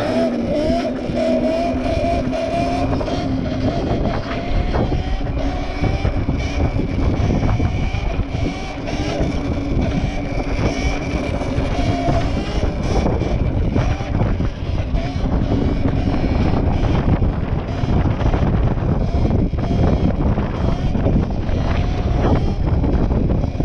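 Strong wind roars across the microphone while riding an Apollo RFN electric dirt bike along seaside country lanes, a steady, loud, buffeting rush that never lets up and drowns out nearly everything else, with no clear speech.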